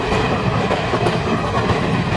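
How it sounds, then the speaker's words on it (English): Slow Business Express train arriving at Ennore Junction, with steady loud rumble and continuous clickety-clack of wagon wheels on rails close by. "Slow Business Express, arriving at the Ennore Junction"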